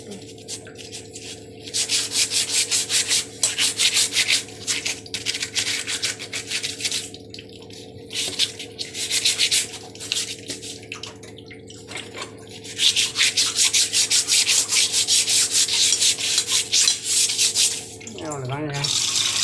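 Steady abrasive scrubbing of a long-stained cooking pan in bursts with short pauses, close and loud, with running tap water and a faint voice near the end.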